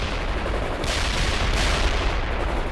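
Sustained machine gun fire in the World in Conflict video game, a dense, continuous loud burst of rapid gunshots with battle noise and no pauses.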